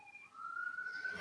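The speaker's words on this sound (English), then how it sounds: "Sirens blaring." Police siren blaring, a single rising wail that climbs steadily and grows louder over about a second, heard alone without talk.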